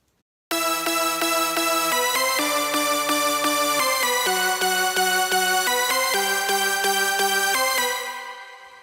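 A totally dry synth layer from the Lethal plugin plays a bright, buzzy stepping chord pattern in steady repeated stabs, loud and up front, with no reverb, fading out at the end.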